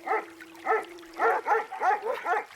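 A dog barks close by in a steady run of about eight sharp, mid-pitched barks, some paired in quick doubles, loud and alone.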